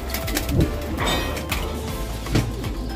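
Pigeons in a loft give soft, intermittent coos over a faint background rustle.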